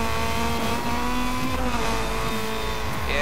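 A front-wheel drive car in a racing video game revs hard and power slides, its engine a loud, steady whine with shifting pitch and tire squeal running unbroken throughout, close and alone with no talk.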